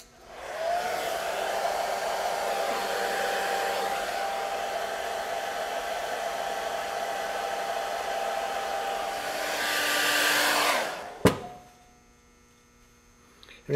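A hair dryer blows on latex makeup during stippling, a loud steady whoosh with an underlying hum that runs for about ten seconds before clicking off and fading to quiet.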